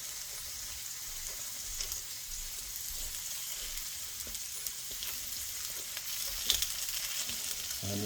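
Steak and potatoes sizzle on a griddle in a soft, continuous frying hiss, with faint clicks of turning and a brief louder crackle near the end.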